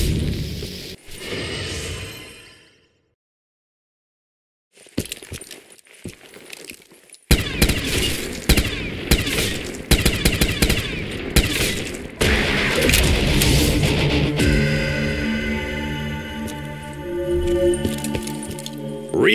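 Gunfire in a custom Call of Duty Zombies map, a dense run of loud, rapid shots with metallic clinks and booms, broken by a brief silence early on and then continuing steadily to the end.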